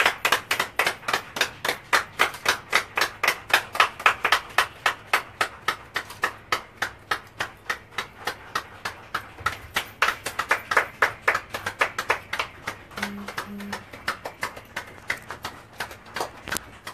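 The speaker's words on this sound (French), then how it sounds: "Maintenant, Lauriane, on peut faire une minute d'applaudissements" A crowd claps in unison as a tribute at a funeral ceremony in Yaoundé, Cameroon, with sharp, loud, evenly spaced claps keeping a steady rhythm that holds throughout.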